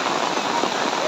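Heavy torrential downpour in Mishajan village, Borhat, Charaideo district, Assam, drenching a flooded roadside with steady dense hiss and close drumming of drops, continuous and loud throughout.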